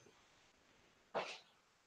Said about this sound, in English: You will hear a very gentle cough